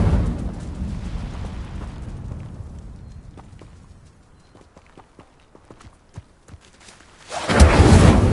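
A fire spell cast in the wizarding video game Hogwarts Legacy: a sudden loud roaring whoosh of flame bursts in near the end, after a low rumbling stretch and a run of faint scattered clicks.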